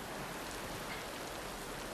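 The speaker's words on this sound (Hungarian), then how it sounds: "Nem akarok az esőben állni." Rain falling steadily in a dense, even hiss, continuous and fairly close, with no voices.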